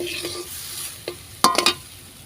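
Chilli powder, turmeric and salt are stir-fried in a pan, with a faint low sizzle and a few quick scraping strokes of the spoon, the last ones louder and close together.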